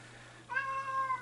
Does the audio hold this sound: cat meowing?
yes